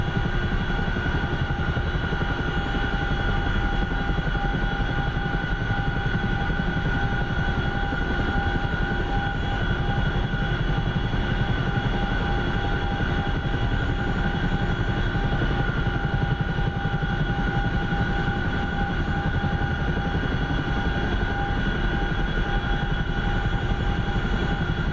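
Aircraft in the DCS flight simulator slowing into helicopter-like flight, giving a steady, loud engine drone with tonal whine that holds unbroken throughout, no talking over it.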